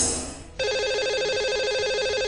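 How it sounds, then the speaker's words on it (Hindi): A telephone ringtone starts abruptly after a moment of fading sound and repeats in a steady warbling pattern as a call goes out to a radio show caller, clear and prominent with no voices. "तो लगाते हैं अब कॉल और करते हैं बात।"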